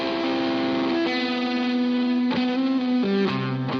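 Sustained guitar notes run through an overdriven Chase Bliss preamp pedal, ringing with thick distortion and shifting pitches, a few plucked attacks cutting in, no voices.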